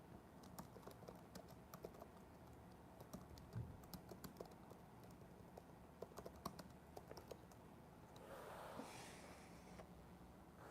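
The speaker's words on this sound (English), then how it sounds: "I'm going to type that in chat." Steady, fairly quiet typing on a computer keyboard, a continuous run of close key clicks over a low background hum, with a brief soft rustle near the end.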